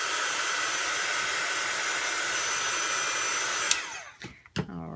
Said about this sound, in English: I'm just going to run my heat tool.